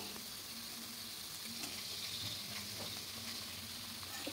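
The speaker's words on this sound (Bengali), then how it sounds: "আদা রসুনের পেস্টটা দিয়ে খুব ভালো করে একটু কষিয়ে নেব" Steady sizzling of ginger garlic paste frying in hot oil, continuous and close, with occasional soft stirring scrapes and no voices.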